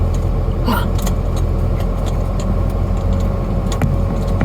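A manual car idles close by as it pulls away in first gear, a steady low engine drone with faint clicks and ticks over it.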